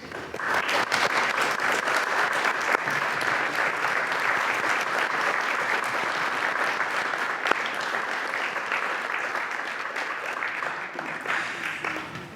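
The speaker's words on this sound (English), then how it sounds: "I'd just like to offer a round of applause for your commitment to conservation" Sustained applause from a large crowd at an annual general meeting, a dense wash of clapping at an even level from start to finish, heard from some distance.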